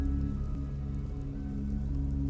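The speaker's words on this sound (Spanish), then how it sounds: "Después, solo se escucha la lluvia." Steady rain falls outside a bar, a continuous even patter with dense drops and a low rumble underneath, no voices.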